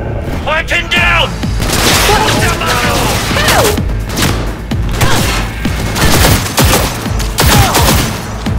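Gunfire crackles through a firefight in Cyberpunk 2077, sharp repeated shots and booms layered under excited player talk across the whole stretch.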